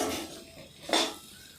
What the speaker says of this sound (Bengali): ছাতু দেওয়ার পর 2-3 মিনিট এইভাবে একটু নেড়ে চেড়ে নিতে হবে একসঙ্গে।